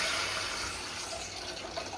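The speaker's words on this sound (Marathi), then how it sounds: "आता परतून घेतलं आणि त्याच्यात आता पाणी टाकलं" Water pours steadily into a cooking pot over oil and fried cumin, a brief splashing, rushing sound up close that eases slightly toward the end.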